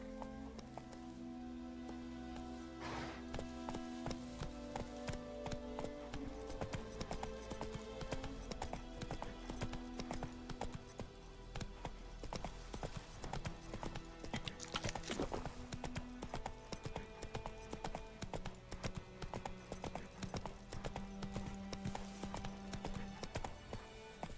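Horse hooves clip-clop steadily through The Witcher 3 video game, a continuous rhythmic gallop mixed with soft game ambience and music, moderately quiet throughout.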